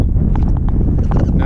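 Wind buffets the microphone in a steady, heavy low rumble at an RV resort on Ohio Key, with faint murmuring voices mixed into the roar.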